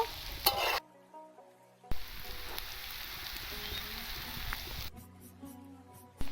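Bitter gourd and potatoes sizzle and crackle in a hot pan, interrupted by stirring scrapes and brief pauses, the frying noise loud and close.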